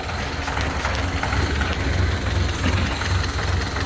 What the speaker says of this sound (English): Obviously still running the stock Model A engine.